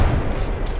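A single heavy grenade blast in Apex Legends, a loud low boom that rumbles and fades over less than a second.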